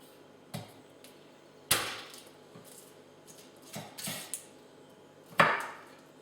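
Knife blade striking a wooden chopping board while trimming and crushing garlic cloves, a few sharp, separate knocks spaced irregularly, close and fairly loud against a quiet kitchen background.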